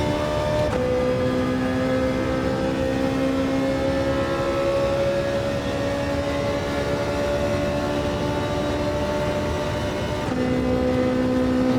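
A Ferrari race car engine in the video game Gran Turismo 7 holds a steady high drone in one gear, pitch sliding slowly, with a clear gear change near the start and another near the end.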